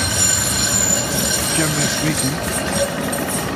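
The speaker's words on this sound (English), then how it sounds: "A tram." A tram rumbles past on rails with a steady rolling roar and faint metallic squeal, while a person speaks briefly over it.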